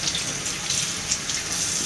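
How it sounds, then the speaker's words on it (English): Tap water runs steadily into a kitchen sink while raw chicken is washed, a close, continuous hissing splash with slight fluctuations and no speech. "you gotta come over here to the kitchen sink, and you're gonna wash out your chicken"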